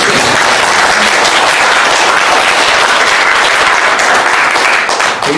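Loud, full applause from an audience at an annual general meeting of a Korean consumer movement group where new officers are being elected, a continuous wash of many hands clapping for over five seconds with no voices over it.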